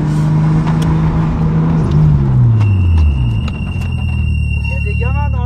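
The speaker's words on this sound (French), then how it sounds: "J'aime voir le turbo. Enfin, entendre le turbo qui charge un petit peu le turbo flotteur." A tuned Nissan Skyline R33 under way, its engine note climbing then falling while a turbo whistle rises above it, loud and close from inside the car with a brief squealing flutter near the end.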